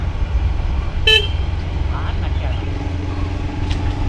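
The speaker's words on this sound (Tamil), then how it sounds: "ஆள் இல்லாத காட்டுக்குள்ளே எதுக்கு ஹார்ன் அடிக்கிறேன்னு கேட்குறியா?" A short, sharp car horn toot rises briefly over a steady engine rumble and road noise, on a road through empty forest near a tea estate.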